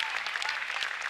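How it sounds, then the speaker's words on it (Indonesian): Studio audience at an Indonesian TV talent show claps in a brief, steady burst, dense and fairly close. "Tepuk tangan lagi dong"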